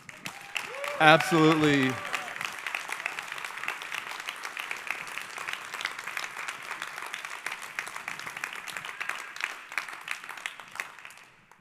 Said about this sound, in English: Let's give Bekah the biggest of rounds of applause